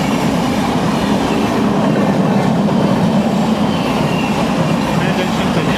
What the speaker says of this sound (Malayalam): പൂനെ ജംഗ്ഷൻ കന്യാകുമാരി എക്സ്പ്രസ് ആണ്, അഥവാ നമ്മുടെ ജയന്തി ജനത എക്സ്പ്രസ്. അങ്ങനെ അതും പോയി.